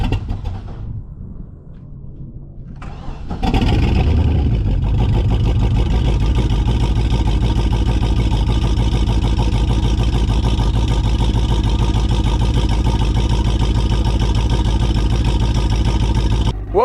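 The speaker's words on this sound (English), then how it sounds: "we've got a running engine." A new Mastercraft X-2 boat engine cranks briefly on its first start, then catches and settles into a loud, steady idle that rumbles on continuously.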